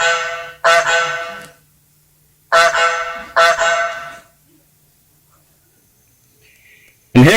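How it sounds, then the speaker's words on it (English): Cartoonish goose honks from the Loosey Goosey browser app come in loud, close bursts. Two quick pairs of honks are separated by silence, and one more honk starts at the very end. "Loosey Goosey uses the browser's underlying API, audio API, to make honking goose sound when you click in the right place"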